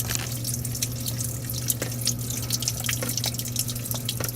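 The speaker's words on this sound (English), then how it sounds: "Right over there you can see a lot of water dripping." Water dripping under an old house from a leak, with scattered irregular drips and splashes over a steady low hum, fairly close and alone without talk.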